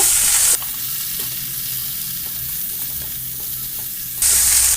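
Tomato and eggplant frying in a pan, a steady close sizzle and bubbling that runs throughout, with brief bursts of louder hiss at the start and end and no talking.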